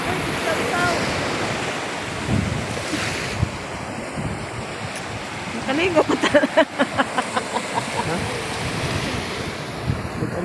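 Strong sea waves roll onto the shore at Vista Freedom Park, a loud continuous wash mixed with heavy wind buffeting the microphone, while people talk nearby.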